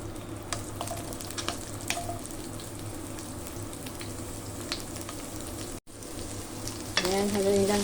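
White onions fry in hot oil in a wok for a beef stir fry, a steady close sizzle with stirring scrapes, briefly cutting out and then swelling louder near the end.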